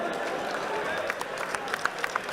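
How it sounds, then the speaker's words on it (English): A boxing fight night crowd in Hull applauds a boxer, a continuous roar of clapping and cheering with a few sharper individual claps standing out near the end. "Ladies and gentlemen, please a big round of applause for Kane Baker."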